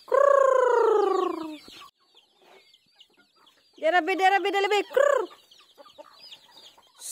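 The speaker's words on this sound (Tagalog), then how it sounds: "Feed the chicken, bebe." Chickens at feeding time give a long drawn-out call followed by a burst of rapid clucking and a short squawk, close and loud, with a person speaking briefly between them.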